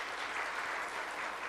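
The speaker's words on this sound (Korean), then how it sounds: "박수 한번 보내드려요." A church congregation at a Sunday worship service claps for a long-serving member, a faint, steady, continuous patter of many hands heard from a distance, with no talking over it.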